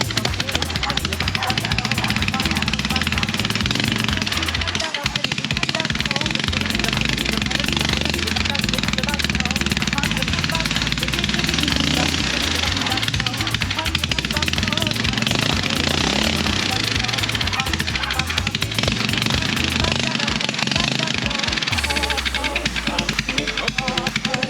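A homemade snowblower's small engine runs on a makeshift throttle cable, chugging loudly and steadily with a rhythmic, surging putter throughout and a brief dip near the end.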